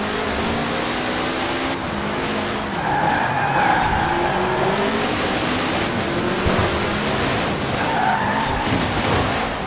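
In Forza Horizon 4, a race car on the Edinburgh Station Circuit road race skids and squeals its tires through corners while the engine drones and revs in a continuous, loud stretch.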